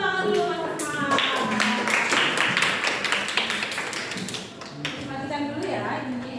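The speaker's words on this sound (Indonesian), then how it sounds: "Tepuk tangan dulu Mas Rahmat." Students in a classroom clap together in a dense burst of applause lasting several seconds, close and steady, with scattered voices mixed in.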